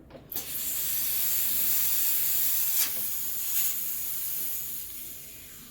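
A Breville Dual Boiler BES900 espresso machine's steam wand gives a steady, loud hiss almost the whole time after a brief start, broken by a couple of faint clicks.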